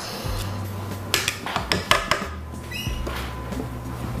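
Metal cookie tray clattering as it slides into a home oven while baking chewy chocolate chip cookies, a few sharp knocks and clanks close by, followed by a low steady hum.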